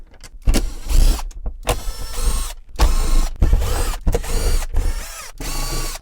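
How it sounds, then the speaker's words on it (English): A power driver backs screws out of an offroad caravan window frame: a run of close, loud whirring bursts, each a second or so long, separated by short gaps as it moves from screw to screw. "Next we'll pop these screws out,"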